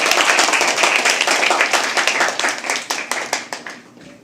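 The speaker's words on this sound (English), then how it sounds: "Can we just have a round of applause for sharing that?" Enthusiastic clapping from a small poetry open mic audience, dense and steady at first, then thinning into scattered individual claps as it dies away.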